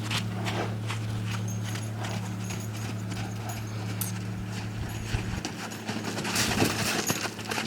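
Hooves of a wild horse clip-clopping on the ground during leadrope training, a steady run of close, distinct footfalls over a constant low hum, growing a bit louder and busier toward the end.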